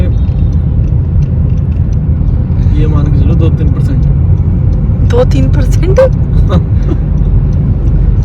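A car being driven, with a steady low engine and road rumble running throughout while people talk inside the cabin.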